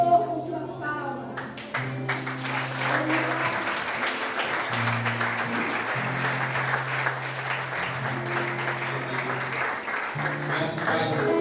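During a church missions service, a congregation claps in praise, steady clapping carrying beneath sustained organ-like chords and voices in the room.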